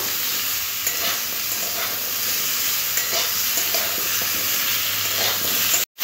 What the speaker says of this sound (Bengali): পেঁয়াজটাও সবজির সাথে 1-2 মিনিট ভাজতে হবে।